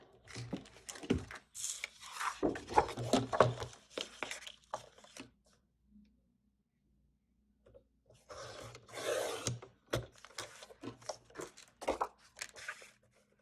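Scissors cutting and trimming a paper mat for a 4x4 card, with bursts of snipping and rubbing in two clusters separated by a quiet gap, close and fairly soft.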